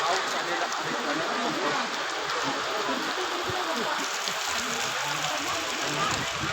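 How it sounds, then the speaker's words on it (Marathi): Steady, close rain hisses without a break on a hill fort near Jejuri, with a faint muffled voice mixed into the wash of noise. "आता पाऊस पण या लागलेला आहे"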